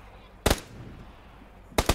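Gunfire in PUBG, PlayerUnknown's Battlegrounds: two sharp, loud shots about a second apart, the second followed closely by another quick shot, over low game background noise.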